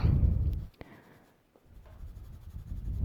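Colored pencil shading back and forth on paper, a soft, steady scratchy rubbing that starts close and fairly loud, pauses briefly midway, then resumes and builds again toward the end.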